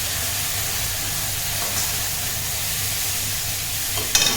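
Ground spice paste with turmeric frying in a pan for a Bengali curry, a steady close sizzle and hiss that runs continuously, with a short clatter near the end.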